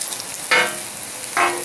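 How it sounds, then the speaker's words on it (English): Bacon strips sizzling loudly on a Blackstone 17-inch propane griddle, with two short scraping bursts as the bacon is pushed across the hot flat-top over a constant crackle. "start moving this bacon over here to one side"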